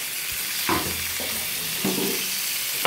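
Potatoes and drumsticks (moringa pods) fry in oil in a wok, making a steady bright sizzle with a few spatula scrapes and stirring knocks close by.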